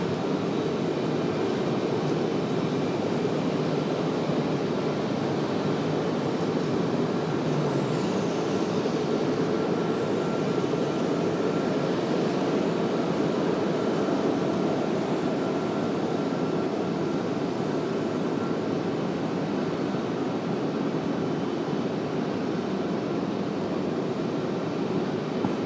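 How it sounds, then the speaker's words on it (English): Southwest Airlines jet airliner departing at Raleigh-Durham airport, a faint, even engine rumble and hiss that stays steady for the whole stretch, distant and without voices. "Got a Southwest headed out."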